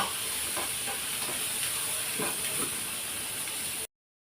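Ingredients for pappucharu frying with salt in a pan, a continuous steamy sizzle and hiss with occasional soft stirring scrapes, cutting off abruptly at the end.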